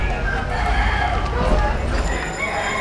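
Roosters crowing in a small cockfighting arena in Cebu, Philippines, steady and fairly loud over a dense crowd murmur with people talking nearby.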